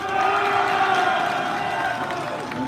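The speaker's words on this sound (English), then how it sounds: "Graduates, if you can hear me, clap and scream." Graduates at an Army and Navy Academy graduation ceremony clap and scream together, a sustained dense roar of crowd cheering and applause filling an open setting.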